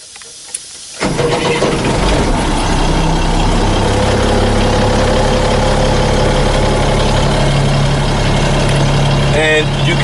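A Class B truck engine cranks and catches after a second of quiet, then settles into a steady, loud, close idle that continues throughout.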